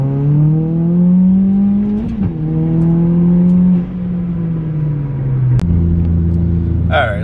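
A modified Nissan Juke NISMO crossover pulls hard in second gear from a 30 mph roll, its engine note climbing steadily and loud with a brief shift-like dip midway, a voice talking over the run.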